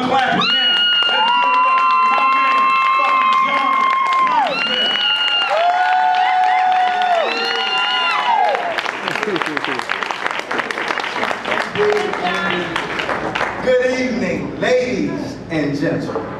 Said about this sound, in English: Let's give it up. Start clapping.